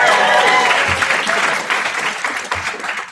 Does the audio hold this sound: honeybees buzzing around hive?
no